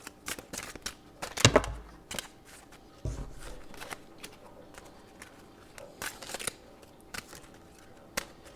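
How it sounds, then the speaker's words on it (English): Playing cards being shuffled and riffled in short bursts, quiet and close, with scattered clicks and pauses between. "Or maybe I'm just having difficulty shuffling this deck."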